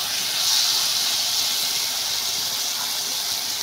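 Taro stems sizzle in hot oil as they are added to the pan, a steady bright hiss that stays loud and even throughout, with no talking.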